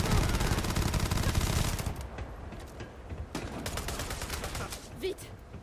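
Rapid automatic gunfire in the Starfield video game, a dense loud burst at first, then lighter scattered shots and clatter as the firing thins out.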